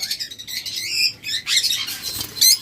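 A pair of red-eye lutino opaline lovebirds chirps in quick, bright bursts and squawky trills, close and fairly loud with brief pauses between calls.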